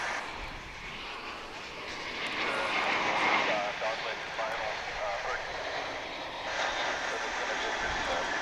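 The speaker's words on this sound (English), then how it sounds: "we've now got American Airlines Flight 2855 on final approach from Los Angeles," An American Airlines Airbus A321 jet from Los Angeles roars on final approach at DFW International Airport, a broad engine rumble swelling and easing as it passes, while a person talks over it.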